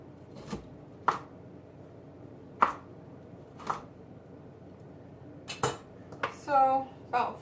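A knife rough-chopping broccoli on a board for soup, giving several sharp, separate thuds spaced a second or so apart, with a few quicker knocks and a short scrape near the end.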